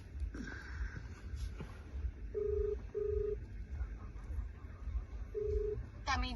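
Telephone keypad tones beeping as a number is dialed in a Gujarati village, a few short, evenly pitched beeps spaced apart over faint background noise, with quiet talk nearby.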